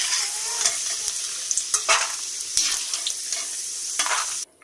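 Vermicelli roasting in a pan, stirred steadily with light sizzling and scraping clicks of the spoon, continuous and close, ending in an abrupt stop near the end.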